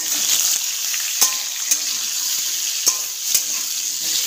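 Potatoes and taro pieces fry in hot oil tempered with cumin seeds in a wok-style pan, giving a bright, even sizzle with a handful of sharp utensil clinks spaced through it.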